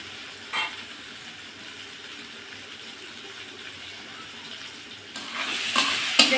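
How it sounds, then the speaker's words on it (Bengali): Potatoes sautéing in a pan for a tomato and fish dish, a soft steady sizzle that swells louder near the end with scraping stirs and a sharp clatter, close by with no voices. "একটু কষিয়ে নেব।"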